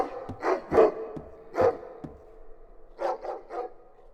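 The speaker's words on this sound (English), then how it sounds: "dog bark was getting reverberated by the short reverb" A dog barks repeatedly in a run of single and paired barks, each followed by a reverberant tail as the sound passes through a short reverb room with a larger church-like reverb bleeding in.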